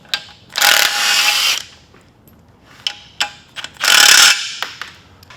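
Ratchet wrench clicking while an oil pan is removed from a Toyota 2JZ-based 4.2 L Atlas inline-six under teardown; two long bursts of rapid ratcheting with scattered sharp metallic clanks between, close and loud, with no talk.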